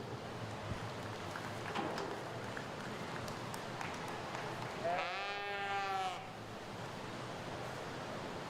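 At a 4-H sheep show, a single sheep gives one clear, wavering bleat lasting about a second, heard over a noisy hall with faint background chatter.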